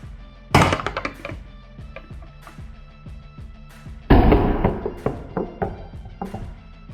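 Two hard, loud knocks against the glass of a Procraft LP20 rechargeable flashlight, each followed by a short series of rattling taps, close up with no talking.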